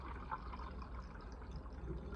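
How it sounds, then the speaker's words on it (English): Steeped willow tea being poured from a Brown Betty teapot, a steady continuous liquid pour lasting the whole moment at close range, fairly quiet. "now I'm going to pour off the liquid, the tea"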